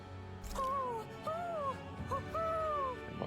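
An owl in the video game Tales of Arise gives several wavering hoots in a row, clear and moderately close over a quiet ambient background.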